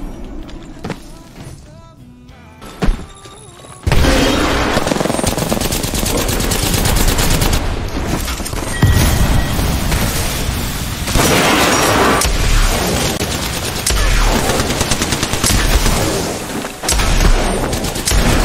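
Peacekeeper shotgun blasts in the Apex Legends video game, loud and close, with repeated heavy booming shots and rapid gunfire through a dense, continuous fight, beginning abruptly after a few quieter seconds.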